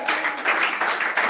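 A church congregation applauding during a session, a dense burst of clapping from many hands that swells and eases in waves over about a second and a half.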